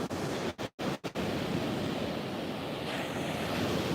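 Ocean surf breaks at Vero Beach as a broad, continuous wash of noise with gusty wind buffeting the microphone and brief dropouts early on, with no voices.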